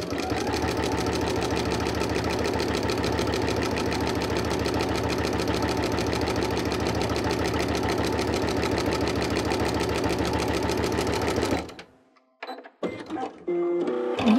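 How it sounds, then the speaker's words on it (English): A sewing machine fitted with a walking foot runs steadily for about eleven seconds, stitching perpendicularly across a seam with a fast, even mechanical chatter, then stops abruptly and leaves a few faint handling clicks. "this time I'm going to sew across it perpendicularly"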